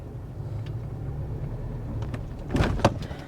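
A manual-transmission Subaru engine idles with a low rumble and then stalls in a rough lurch of clunks and shudders near the end. The sound is close, with no talk.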